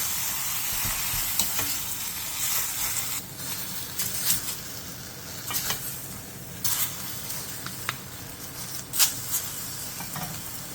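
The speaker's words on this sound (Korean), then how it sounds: "양념과 골고루 섞였으면 불린 미역을 넣고 소고기의 겉면이 익을 때까지만 센 불에서" Beef and soaked seaweed sizzling in seasoning over high heat, a constant hissing fry punctuated by bursts of spatula scraping and tossing, close and loud, with no speech.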